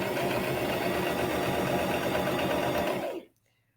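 Sewing machine stitching and back stitching pieced fabric triangles for a quilt, a rapid close mechanical whir that runs steadily for about three seconds, then stops abruptly into quiet.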